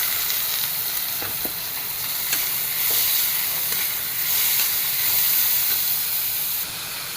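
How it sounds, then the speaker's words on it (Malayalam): Grated beetroot fries with garlic cloves and curry leaves in a pan: a continuous, loud hiss and sizzle close by, with faint stirring scrapes and no talking. "നമ്മുടെ ഗ്രേറ്റ് ചെയ്ത് വെച്ച ഈ ബീറ്റ്റൂട്ട് ഇട്ട് കൊടുക്കാം"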